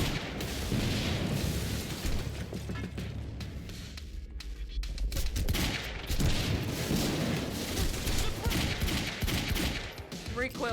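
Rapid bursts of automatic gunfire and heavy weapon blasts from the shooter video game Quantum Break, loud and dense, with a short lull midway before the firing resumes.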